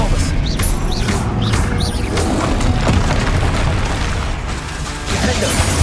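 An Expelliarmus cast in the Hogwarts Legacy video game, heard amid busy combat with cracking, splintering impacts and magical whooshes, loud and near, with voices talking over it.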